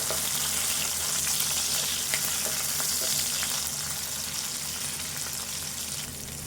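Chopped medium onion sizzles and fries steadily in oil in a pan while being stirred, a continuous close crackling hiss with faint scraping throughout.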